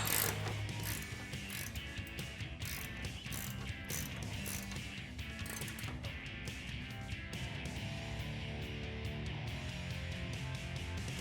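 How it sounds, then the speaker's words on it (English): A ratcheting wrench tightens a sway bar bolt on a Jeep Wrangler JL 4-door, a steady run of close, dense metallic clicks continuing without pause and with no talk. "tighten that up. It's a little bit easier with a ratcheting wrench, just so there's not as much movement."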